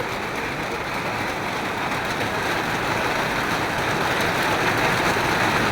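Heavy rain pouring down in a steady, dense hiss that stays unbroken and fairly loud throughout, with a low rumble beneath it and no voices.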